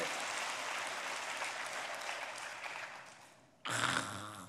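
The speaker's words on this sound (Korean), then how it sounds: "유권자들이 박수를 하잖아" A church congregation of voters applauds at a Sunday service, a steady wash of clapping that fades, then a sudden, louder burst of sound after a brief drop.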